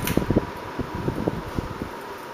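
A 1991 SMC Promo Deluxe 36-inch ceiling fan spinning on medium speed at about 200 RPM, giving a steady airy whoosh with soft rhythmic thumps and faint rustling, close and moderate in level with no talk.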